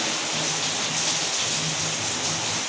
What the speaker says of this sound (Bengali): এখন দেখো পুরো বৃষ্টি পড়ছে ঝমঝমিয়ে বৃষ্টি পড়ছে